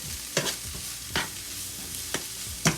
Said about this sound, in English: Go ahead and stir it on in with the vegetables.